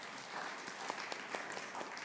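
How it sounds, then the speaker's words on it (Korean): A church congregation claps during a Korean Sunday worship service, with scattered, fairly quiet applause of many hands running steadily through the whole short stretch and no voices over it. "박수 한번 하겠습니다"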